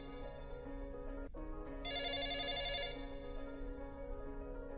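An old-style telephone bell rings in an anime prison drama scene, a brief burst of bright metallic trilling over a low, steady tone with a sharp click before it, heard alone with no talk.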